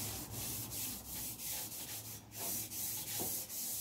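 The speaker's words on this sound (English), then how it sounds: "just with a dry Scotch-Brite, I'm just going to go over the pipe, just give it a quick rub down." A dry Scotch-Brite pad rubbing down a two-stroke motorcycle exhaust pipe in one direction, giving steady, close, rhythmic scouring strokes about every half second, with no talking.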